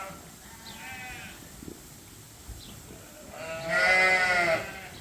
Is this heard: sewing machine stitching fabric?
no